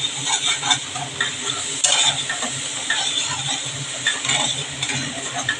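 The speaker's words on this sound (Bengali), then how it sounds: "তেল ছাড়া অবধি আমি মশলাটা কষাতে হবে" Spice paste is stir-fried in oil, a continuous crackling sizzle broken by repeated scraping and stirring against the pan, with light metallic clinks and no voices.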